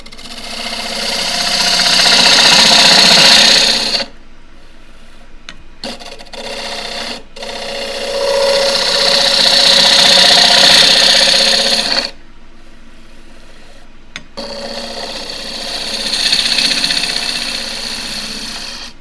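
A wood lathe turns a nine-sided wooden plate, giving three long whirring, hissing cutting passes of several seconds each. Quieter gaps with a few brief clicks separate the passes.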